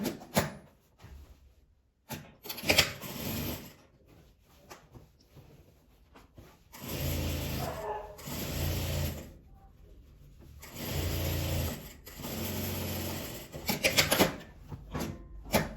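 A sewing machine topstitches along the seams of a reversible double-faced denim tote bag, running in several steady bursts of stitching separated by short pauses and handling noises.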